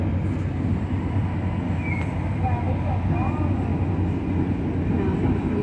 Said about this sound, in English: In the train.